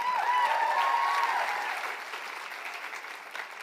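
Audience applause at a youth leadership event, a steady crowd clapping that is loud at first and then gradually fades, with a faint tone running through the start.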